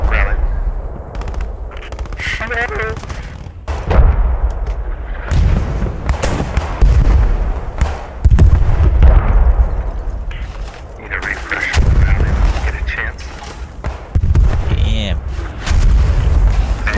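Explosions and gunfire in the World War II shooter game Squad 44, with a Royal Engineer and Vickers gun: repeated loud booms and bursts of shots across the clip, under and between bursts of talk.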